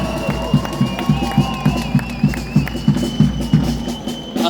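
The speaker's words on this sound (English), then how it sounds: "Can we also make a loud cheer" A crowd at a rally roars loudly, with rhythmic pulses of clapping or chanting repeating roughly every half second over a steady wash of voices.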